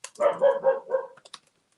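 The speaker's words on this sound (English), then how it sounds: "My dog's barking." A dog barks indoors in a quick run of four or five yips, close and moderately loud, followed by a few light clicks like keyboard taps.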